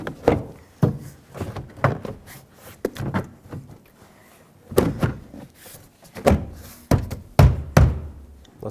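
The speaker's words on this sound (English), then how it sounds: "Now grab the door panel, slide it down from the top" A plastic door panel on a 2008–2010 Ford F-250 is pressed and slid down onto its door hooks, giving a string of sharp knocks and hollow thunks with quiet gaps between them, loudest toward the end.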